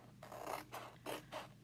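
Scissors cut through a chalk transfer sheet in four or five short rasping snips, close and fairly quiet, with no talking.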